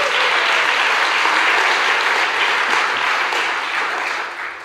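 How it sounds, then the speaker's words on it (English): An audience at a Sunday gathering breaks into dense, sustained applause that stays loud for several seconds before beginning to taper off. "Give Reverend Mike a round of applause"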